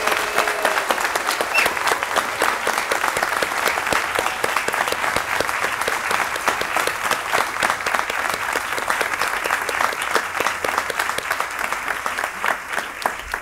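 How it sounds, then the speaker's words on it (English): A school commencement audience applauds a Hall of Fame inductee, with dense sustained clapping that stays steady and loud throughout. "Mr. Gordon, please stand up and receive applause in honor of your induction"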